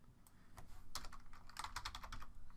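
Rapid bursts of close keystrokes on a computer keyboard as a name is typed in, uneven clusters of clicks with short pauses between them and no talking.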